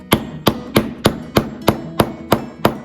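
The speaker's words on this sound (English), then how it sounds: "let's get that hammering done" Nine sharp, evenly spaced hammer blows drive a metal stud and post through fabric, each a loud, close, ringing strike about a third of a second apart, with no voices.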